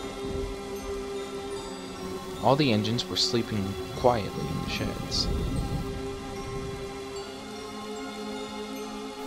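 Stormy-night rain poured as a cartoon sound effect on the island of Sodor, a steady wash of rainfall running beneath a narrator's voice, with faint thunder-like rumbles in the background.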